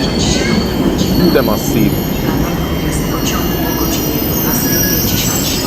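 Polish express train pulling into a station, a loud continuous rumble of wheels on rails with squeals and metallic clanks, while someone speaks briefly over it.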